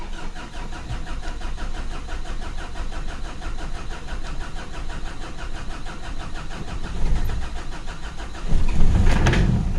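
A car engine being started after its heater glow: a long, rapid rhythmic cranking churns for several seconds, then the engine catches and settles into a louder rumbling idle.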